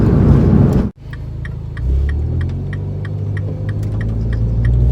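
An R56 Mini Cooper S speeds up on the road, a steady low engine and road hum rising and settling after a brief dropout, with faint regular ticking above it throughout.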